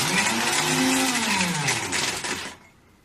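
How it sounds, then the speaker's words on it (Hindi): A kitchen mixer grinder whirs loudly while blending ghewar batter, its motor pitch sliding down before it cuts off near the end, leaving a brief quiet tail. "मिक्सी चलाऊंगी बंद करूंगी,"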